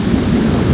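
Strong gusty wind of force six to seven on a Sirius 310 DS sailboat at sea at night roars as a loud, continuous low rumble buffeting the microphone, with no voices.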